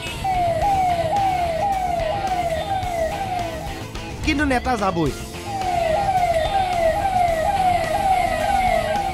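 An ambulance siren wails in repeated rising sweeps while stuck in a traffic jam on a flooded road in Guwahati, with a brief burst of a different siren and honking midway, over steady traffic rumble and someone talking.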